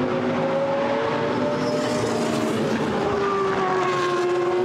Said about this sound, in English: this time a Ferrari 458 GTE car.